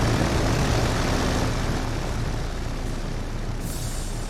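WWII aircraft taking off in a naval warfare video game: a steady, loud roar of propeller engines, constant and droning with no voices over it.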